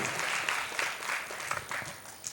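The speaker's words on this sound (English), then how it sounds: "A round of applause." Applause from an audience at a medical postgraduate quiz, honoring the top-ranked doctors: a crowd of hands clapping with some individual claps standing out, moderate in level, rising and dipping briefly without talk.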